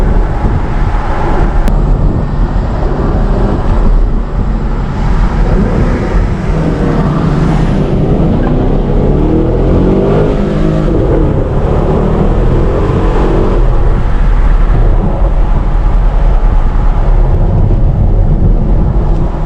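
A 2015 Chevy Camaro SS with a pushrod LS V8 heard from inside the car, a loud continuous engine roar rising under acceleration, with heavy low rumble throughout.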